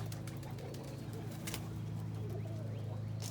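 Homer and roller pigeons coo softly and continuously inside a loft, a steady low murmur with a faint flutter of wings near the middle.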